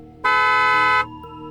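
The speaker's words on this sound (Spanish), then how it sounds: "escuchó la bocina de la camioneta que sonaba a todo volumen." A pickup truck horn blares loudly in a single sustained honk lasting under a second, rich and brassy, ending abruptly amid a quiet background.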